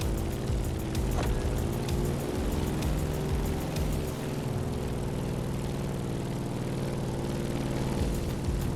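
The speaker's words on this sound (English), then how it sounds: "In the cockpit of a stunning Grumman F-8F Bearcat" A Grumman F8F Bearcat propeller engine in the video game The Crew Motorfest drones steadily and loudly throughout, with a constant throbbing hum and no voices.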